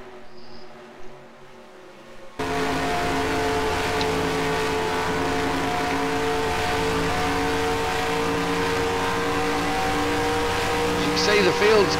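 A race car engine drones loud and steady from inside the cockpit during a race, its sound cutting in abruptly after a brief quiet start and holding a continuous rumble to the end.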